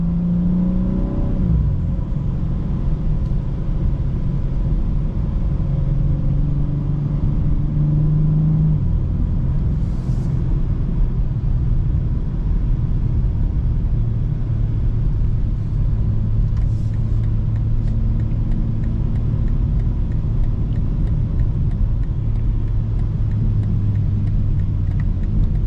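A 2025 BMW M4 Competition's engine heard from inside the cabin with active sound design on: a low, steady rumble with a few rising revs and shifts, close and continuous, no talking.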